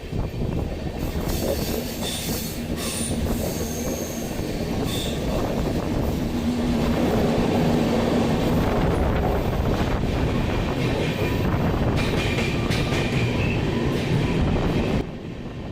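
A train runs along the rails in the hills about a kilometre from Borra Caves on the Vizag to Araku line. Its wheels rumble and clatter steadily with occasional squeals, loud and close throughout, easing off right at the end.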